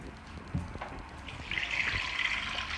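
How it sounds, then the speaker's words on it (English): Water is poured into a pot of seasoned meat for a Bajan souse and pudding dish, giving a steady splashing rush close by that grows louder after a few soft knocks, with no voices. "now I'm going to add my water"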